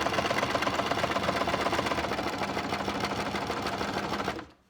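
A sewing machine runs a straight stitch on a fabric face mask, its rapid, even needle chatter steady and close throughout before stopping just before the end.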